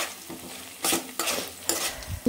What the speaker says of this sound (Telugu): అల్లం వెల్లిపాయ పేస్ట్ వేసుకొని వేయించుకోండి కొద్దిసేపు